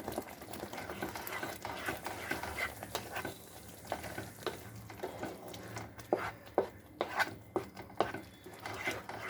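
A spoon scrapes and stirs through a pan as ginger paste is mixed into green rui fish curry, with soft sizzling and irregular clinks of metal against the pot.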